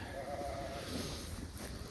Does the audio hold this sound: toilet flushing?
no